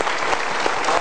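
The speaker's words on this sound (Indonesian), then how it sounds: "Kita itu tepuk tangan untuk Boyolalinya" Studio audience at a motivational talk show clapping for a guest from Boyolali, Central Java: a brief, dense burst of many hands applauding together, close and lively, lasting about a second.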